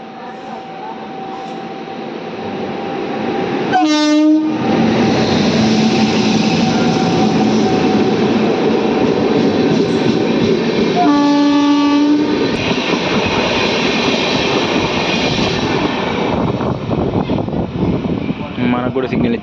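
The Vijayawada–Lingampalli Intercity express roars past at the Pedakurapadu crossing, heard loud and close from a waiting passenger train, with a long horn blast early on and another a few seconds later over continuous rumbling wheels. Voices are faintly present.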